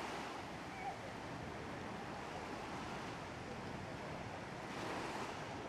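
Sea waves wash steadily into a cove on Turkey's Dilek Peninsula, a continuous broad surf roar mixed with wind noise, fairly loud and unbroken.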